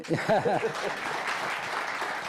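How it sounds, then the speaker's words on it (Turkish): An audience claps for an association president at a Turkish community gathering, a steady burst of applause that follows a brief voice at the start and fills the room to the end. "Evet, bir alkış gelsin başkana ya."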